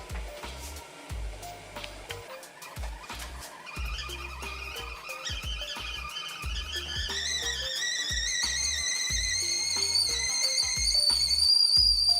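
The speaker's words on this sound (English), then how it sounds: "Now we're just gonna wait on the water to whistle." Rising whistle from a kettle that climbs in pitch and grows steadily louder, with a bubbling, rumbling boil underneath.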